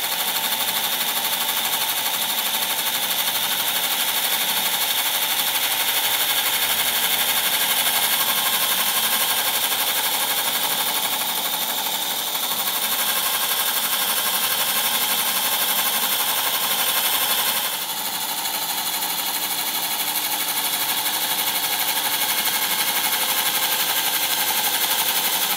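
A drill bores a hole beside a bearing to swap out an oil seal without dismantling the assembly, a continuous high whining grind held for about twenty-five seconds with a brief dip near the end, and no voices.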